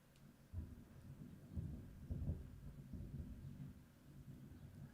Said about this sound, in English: Now I'm hearing the thunder.